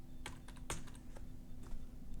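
Keystrokes on a computer keyboard while entering a futures contract into trading platform search, a few scattered clicks with one louder tap, close up over a steady low electrical hum.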